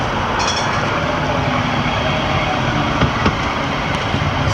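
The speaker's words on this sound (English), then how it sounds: "So busy, that tram." A Croydon tram rumbles past close by at Fieldway stop, a steady loud rolling roar with faint metallic squeals and clunks, no talking.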